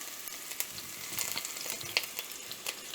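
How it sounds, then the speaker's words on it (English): Chopped onions frying in about six tablespoons of oil in a vessel on the stove for beef vindaloo, a faint steady sizzle with occasional light stirring clicks, no voices. "Place a vessel on the stove and add about 6 tablespoons of oil. Add the chopped onions"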